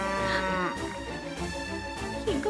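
A cow moos loudly in distress, a long drawn-out bellow with a rising, strained pitch that repeats and wavers, close and alone with no talk over it.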